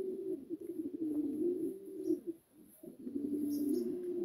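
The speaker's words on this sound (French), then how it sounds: "Le réveil des pigeons aussi." Pigeons coo in the morning, with soft, low, rolling calls close by, repeating with a brief pause midway and faint chirps in the background.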